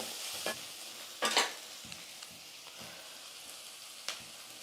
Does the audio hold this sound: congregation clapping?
no